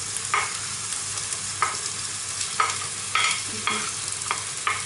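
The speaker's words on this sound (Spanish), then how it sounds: "Todo esto vamos a hacer el sofrito y lo vamos a cochar todo." A sofrito of carrot, onion, garlic and bay leaf sizzles steadily in a pan for a chickpea and judión bean stew, broken by regular sharp scrapes of stirring, close up with no talking.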